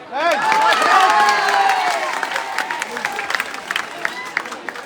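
A school meeting audience breaks into applause, claps and cheers swelling loudly at first, then thinning to scattered individual claps, with crowd voices blended underneath.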